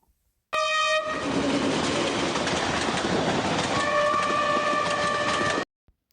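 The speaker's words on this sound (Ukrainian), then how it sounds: "Звичайно, це потяг." A train roars past with a loud, steady rumble and clatter of wheels, its horn blaring at the start and again near the end.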